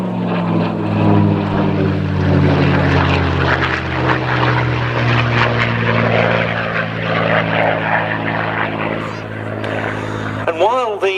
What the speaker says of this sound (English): the Merlin-powered Mustang truly excelled as a long-range escort fighter